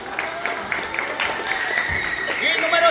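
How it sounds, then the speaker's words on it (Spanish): Applause from spectators at a children's team obstacle course competition on an outdoor track, a short patter of claps mixed with shouting voices and crowd chatter. "¡Un aplauso para ellos!"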